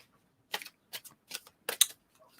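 Tarot cards shuffled by hand in several short riffled bursts, each a crisp papery flutter close to the listener, separated by brief quiet gaps.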